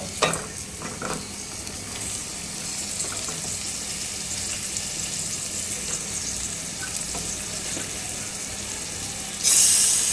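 Meat and tomato frying in a pan for mutton head curry with chana dal, a steady close sizzle with scraping stir strokes, a hissing flare near the end.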